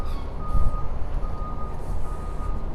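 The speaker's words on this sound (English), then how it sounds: "This is the actual fire truck that I was talking about" Ladder Company 161 fire truck rolling past on a Staten Island street, a steady close engine rumble with a thin high beeping tone repeating over it, no voices.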